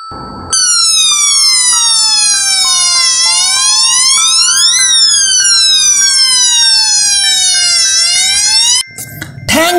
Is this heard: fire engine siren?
yes